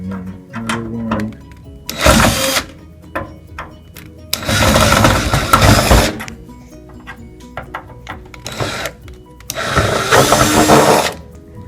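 Phillips head screws being removed from a microwave case with a power screwdriver, giving short whirring bursts between small clicks and handling knocks, close by.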